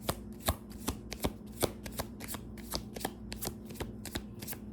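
Tarot cards are shuffled by hand in a quick, steady run of crisp flicks and riffles, close up and moderately quiet, with no talking.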